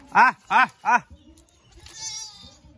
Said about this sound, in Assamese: আৰু আছে ছাগলী।